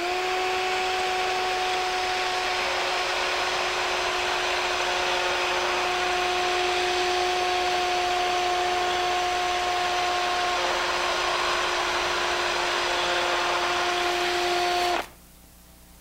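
A chisel is rotated against a sharpening stone, giving a steady, continuous grinding whine with a sustained tonal ring that holds for about fifteen seconds and then stops abruptly, heard close with no speech.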